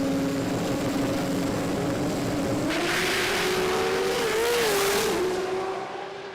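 Toyota 2JZ-engined drag car making a full pass at a drag-racing event, a loud sustained engine roar with rising pitch that holds steady through the run, then fades slightly at the end.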